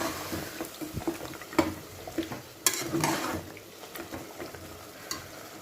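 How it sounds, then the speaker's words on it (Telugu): Lamb trotters curry being stirred in a pot, a soft irregular scraping and sloshing with a low frying sizzle underneath and occasional sharper knocks of the spoon. "ఇప్పుడు ఈ కాళ్ళ పులుసు వేసుకుంటాం. వేసి బాగా కలబెట్టేసి"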